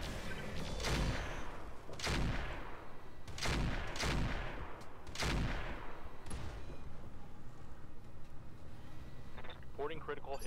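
Mech weapons fire in the BattleTech-based video game Roguetech, several loud booming volleys a second or so apart over a constant rumbling background, with a person talking over the action.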